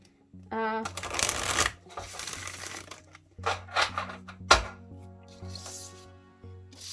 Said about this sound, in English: I'm going to shuffle a little bit, making the cards move around on the table